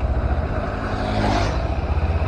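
A Kawasaki Z250 motorcycle engine with leaking valves needing valve clearance adjustment runs rough and uneven at idle, its rumble pulsing and faltering as though close to stalling.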